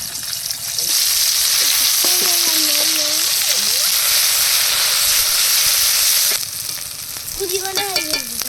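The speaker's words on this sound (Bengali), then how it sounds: "কড়াইতে তেল দিয়ে দিয়েছি এবার পেস্ট করা মশলা দিয়ে কষিয়ে নেব" Spice paste fries in oil in a wok with a loud, steady sizzle and occasional stirring, while a voice speaks over it and the frying drops slightly near the end.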